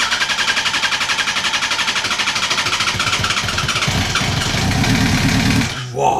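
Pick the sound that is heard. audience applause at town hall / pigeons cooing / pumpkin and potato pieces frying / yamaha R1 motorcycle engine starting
yamaha R1 motorcycle engine starting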